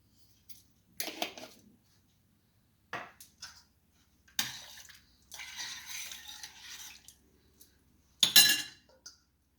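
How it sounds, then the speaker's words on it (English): Rice is washed in water in a pot for Jamaican seasoned rice, heard as intermittent splashy swishing and clinking bursts separated by quiet pauses. "Then I'm gonna wash my rice and add it to it."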